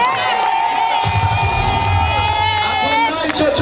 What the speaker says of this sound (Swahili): Piga makofi kwa Dr. Samia.